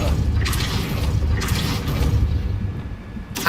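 A Depulso spell is cast in Hogwarts Legacy, giving a few sharp, bursting blasts spread over a few seconds above a steady, rumbling game background.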